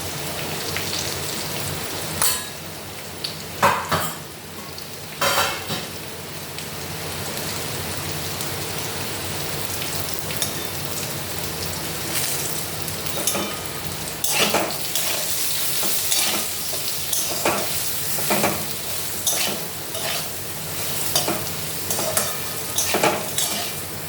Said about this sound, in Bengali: দেখো বেগুনগুলো ভাজা ভাজা হয়ে গেছে